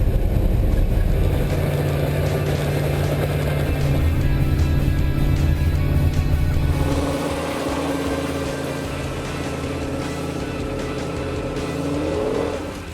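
A tuned Ford F-150 truck in four-wheel drive with a loud, steady engine roar that holds for several seconds and then drops to a lower, rougher drone, with no talk.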